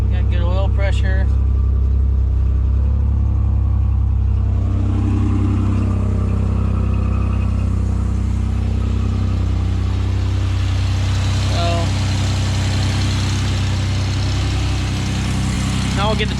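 A 1992 Camaro RS engine, just fitted with a new intake gasket, starts and then runs in a loud, steady, low idle close by, with a few brief revs and occasional voices under it.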